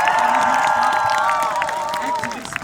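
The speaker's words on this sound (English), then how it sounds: "giving just a big round of applause for all the organizers of the demo" A crowd at an outdoor protest demonstration claps and cheers together, a loud, sustained roar of applause with shouting voices rising over it and a prominent sung or called tone running through.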